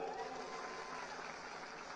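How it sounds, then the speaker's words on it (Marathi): Crowd at a political rally on stage in Maharashtra applauding loudly, a dense steady clatter of clapping that fills the whole two seconds at close range. "जोरदार टाळ्या वाजवा"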